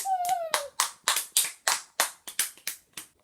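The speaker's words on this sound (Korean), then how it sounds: "박수!" About a dozen close, crisp hand claps in quick succession in a classroom before a lava lamp experiment, with a brief high whistle-like tone at the start.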